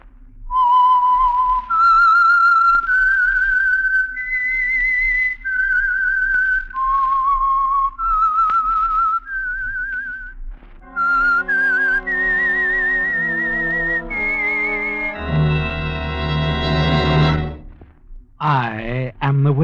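A whistled theme tune for the Signal Oil radio mystery program The Whistler: a clear, loud melodic whistle of sustained notes, then orchestral music swelling in behind it.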